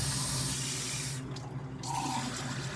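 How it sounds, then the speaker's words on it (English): Distilled water running from a tap into a container while cleaning an arterial line task trainer, a steady rushing splash with a brief shift in tone midway, no voices. "And then you want to fill this with distilled water."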